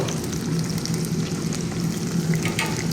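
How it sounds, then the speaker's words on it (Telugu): Green chillies and onions fry in a hot pan, giving a steady, dense sizzle that stays close and fairly loud from start to finish, with scattered small pops on top. "మొత్తంగా పచ్చిమిరపకాయలు ఎర్రగడ్డలు ఒకేసారి అయితే వేసేస్తున్నాను"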